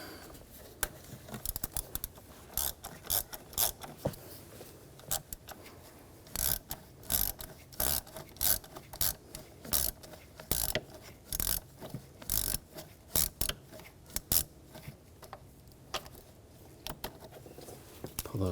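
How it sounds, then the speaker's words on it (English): Ratchet with a T25 socket backing out valve cover screws on a 2007-2013 BMW X5 3.0L inline-six, giving rapid bursts of close, sharp clicking and metallic clatter in short repeated runs, with no talking. "We're going to use a T25 socket. Take these screws out."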